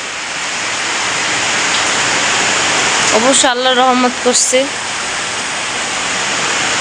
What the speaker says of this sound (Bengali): ওরে বৃষ্টি দিছে রে এতদিন পর।